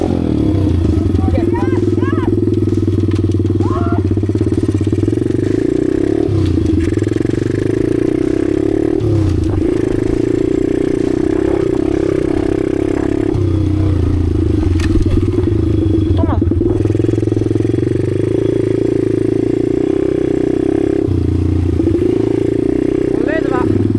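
A motorcycle engine runs loudly through a ride, its revs rising and falling with a few sharp throttle blips and some clattering, while a voice speaks at times over the steady roar.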